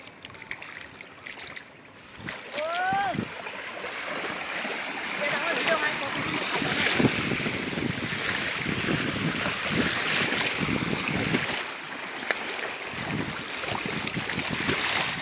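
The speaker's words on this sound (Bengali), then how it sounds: "ও দেখুন কিভাবে একটা ঢেউ আসছে," Waves roll in on a wide river meeting the sea in the Sundarbans, a loud continuous surging wash mixed with heavy wind buffeting and a brief faint chirping call early on.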